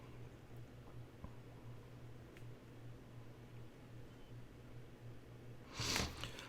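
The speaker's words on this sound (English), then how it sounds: "now I'm doing the sniffling" A single short, loud sniffle near the end of a quiet stretch, over a steady low hum of room noise.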